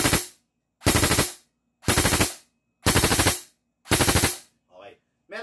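An airsoft gun fires in rapid-fire mode in five loud, close bursts of quick shots, each about half a second long with short pauses between, followed by a brief voice.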